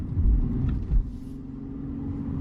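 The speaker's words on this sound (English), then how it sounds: "I'm going into this corner way too fast." A Lexus IS350 taking a corner fast, heard from inside as a loud low engine and road rumble with a couple of heavier surges early on before settling into a steady drone.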